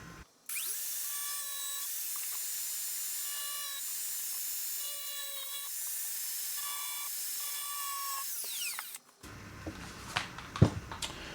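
A grinder cuts through the fiberglass body of a Bell 206 model helicopter, a loud, steady high-pitched whine lasting about eight seconds with brief dips in pitch, then cutting off abruptly, followed by faint handling clatter.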